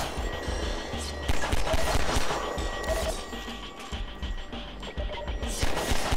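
Explosions and crashing impacts from the Half-Life 2 video game burst repeatedly in loud, dense bursts of blasts and debris over several seconds.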